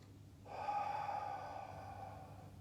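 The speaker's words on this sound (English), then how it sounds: "breathing out as I rotate to the side, breathing in as I come back to the center" Slow breath during a Pilates spine twist, one long exhale and inhale rising close and fairly quiet, with a faint hum behind it and no talking.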